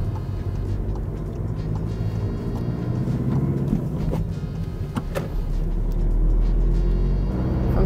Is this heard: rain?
no